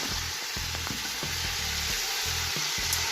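Chicken pieces brown in a pan for a Basque-style chicken dish, giving a constant close sizzle with a low, rhythmic bubbling pulse underneath and no talking.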